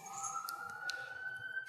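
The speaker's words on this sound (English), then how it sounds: "We're gonna hold for the sirens." Police sirens sound outside, a steady wailing tone held at a moderate distance, faint and continuous, with a few brief higher clicks over it and no talking.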